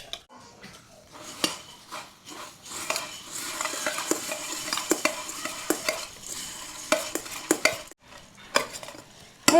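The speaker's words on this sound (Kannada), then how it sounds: "ಚುರ್ಮರಿ ಒಳಗ ಮಸಾಲ ಹಾಕೊಂಡ್ ಗಿರ್ರ ಅಂತ ತಿರುಗಿಸಿ" Puffed rice being stirred with masala for North Karnataka-style girmit, a dry rustling scrape with spoon clinks against a metal bowl, in quick close bursts that come and go without any talk.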